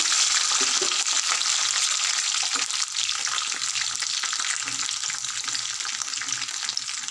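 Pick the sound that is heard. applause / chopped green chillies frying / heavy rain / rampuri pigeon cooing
chopped green chillies frying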